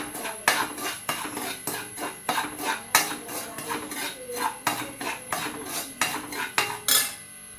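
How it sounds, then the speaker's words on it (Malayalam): Semolina (rava) roasting in ghee in a kadai, with a metal spoon scraping and clinking against the pan in a steady rhythm of repeated strokes, close and fairly loud, no talking. "നെയ്യ് ഒഴിച്ചു കൊടുത്ത് ഒരു അരക്കപ്പ് റവ ഞാൻ ഇട്ട് കൊടുക്കുന്നുണ്ട്. ഇതൊന്ന് വറുത്തെടുക്കാം."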